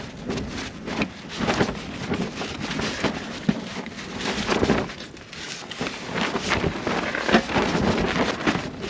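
Wind gusts across a desert campsite in Joshua Tree National Park, a rough, buffeting rush that swells and fades in uneven waves, loud against the microphone with no voices.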